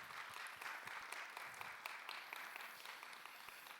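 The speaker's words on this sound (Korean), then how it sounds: "우리 격려의 박수 한번 보내드리겠습니다" Faint congregational applause during a church worship service, a steady wash of many hands clapping at a distance with no voices on top.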